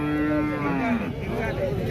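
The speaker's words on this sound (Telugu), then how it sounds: "ఎవరో రైతు అయితే ఆవు పట్టుకొచ్చిండు బాగా పెద్ద ఉంది ఆవు" A large cow lows at the Devarakadra cattle market, one long, loud moo that falls in pitch, close by, with market hubbub behind it.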